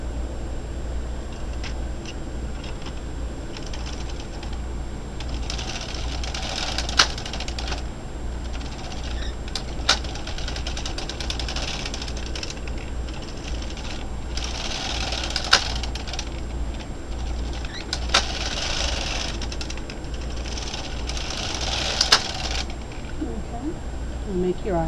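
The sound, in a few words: knitting needles clicking while knitting rows of a baby blanket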